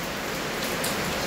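Rain falls steadily in rural Jamaica, a dense, close patter and hiss that stays constant throughout, with no talking over it.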